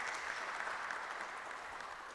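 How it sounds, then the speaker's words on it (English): Audience applause for a chairperson at a church gathering on Christians as citizens, a steady, dense clapping wash of moderate loudness lasting about two seconds with no voices over it. "Let's give our chairperson another round of applause."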